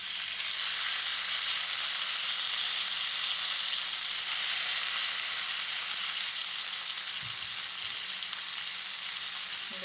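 Seafood sizzles on a grill after being flipped, a steady, bright hiss of frying that holds constant and close for about ten seconds, with a faint tap or two partway through.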